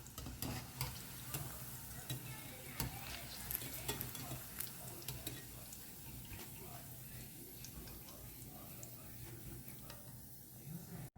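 Squid coated for Koliwada-style frying sizzles steadily in hot oil, a continuous crackling hiss with occasional sharp pops and faint stirring clicks, close and moderately quiet.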